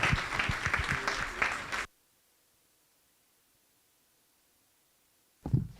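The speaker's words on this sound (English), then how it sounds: "Can you give an applause for him, please?" Brief applause from an audience at an open source conference session, dense clapping for under two seconds, cut off abruptly into silence, followed by a short burst of sound near the end.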